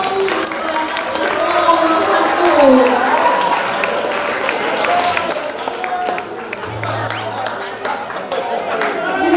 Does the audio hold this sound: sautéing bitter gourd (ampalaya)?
no